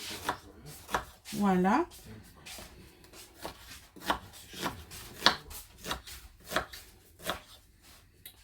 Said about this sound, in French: là on va couper nos oignons